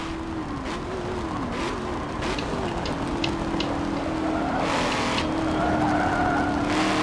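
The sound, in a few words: race car skidding around curves in video game Forza Motorsport 7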